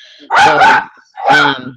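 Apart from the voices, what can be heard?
dog barking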